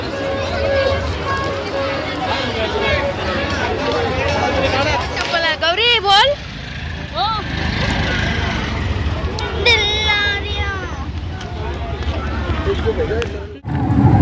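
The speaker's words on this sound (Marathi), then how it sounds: "पती जाम गर्दी आहे इथं आज पण गर्दी भरपूर" Dense crowd hubbub at the Mhasa jatra village fair in Murbad, a steady wash of many voices and movement close around, with nearby talk and shouts rising over the din throughout.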